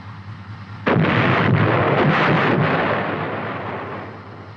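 An M551 Sheridan light tank's main gun fires once with a sudden, powerful near blast, then a long rumbling roll-off that slowly fades over several seconds, with no talk.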